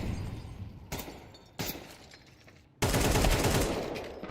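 Gunfire in a competitive shooter video game during an ESEA League playoff match: two sharp, close shots about a second apart, then a louder, sustained burst of rapid fire with no talking over it.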